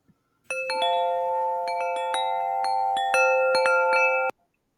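Bright, bell-like metallic wind chime tones ring out one after another, playing Amazing Grace in a slow melodic line, each note sustaining and overlapping the next, fairly soft and clean.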